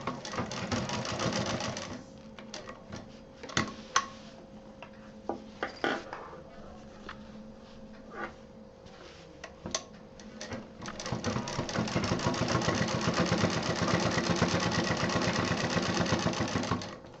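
Sewing machine stitching the finishing seam along the edge of a handbag: bursts of rapid, even mechanical whirring up close, broken by clicks and handling pauses, then a long continuous run of stitching.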